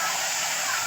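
Dal poured into a pan of fried garlic with turmeric and red chilli powder, a steady close rushing, splashing pour lasting about a second with no pauses.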